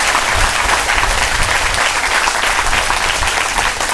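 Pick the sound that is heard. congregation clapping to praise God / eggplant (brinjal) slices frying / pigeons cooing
congregation clapping to praise God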